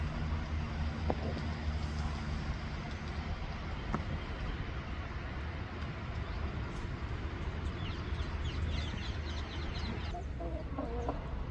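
Chickens cluck on and off at a distance while a rooster calls, set against steady outdoor background noise.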